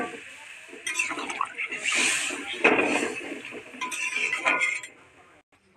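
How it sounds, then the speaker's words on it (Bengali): Water poured into a pan of sautéed mixed vegetable curry, a steady hissing pour with clinks of a pan and utensils, continuous at moderate level before tapering off near the end. "এবার আমরা জল দিয়ে দেবো।"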